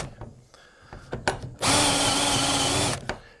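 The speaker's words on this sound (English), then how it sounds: "we're going to drill the holes, just like this. The 2 8 millimeter holes first." A power drill bores 8 millimeter holes into cabinet wood, rising to a loud, steady whine for over a second after a few short clicks and handling knocks, with no talk.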